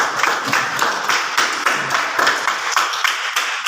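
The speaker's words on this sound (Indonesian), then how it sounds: "Tepuk tangan dulu buat kelompok 3 ini." Classroom applause for a student group, a brisk, fairly loud patter of many hands clapping steadily throughout with no voices over it.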